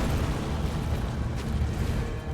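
A boss attack in Elden Ring sets off an explosion, a sustained, loud, broadband rumbling blast that fills the whole moment with no gaps.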